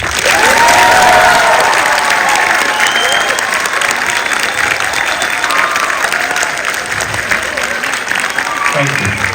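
An audience at a film premiere in Sydney breaks into loud, sustained applause that swells at first and slowly tapers, with scattered voices and cheers mixed in.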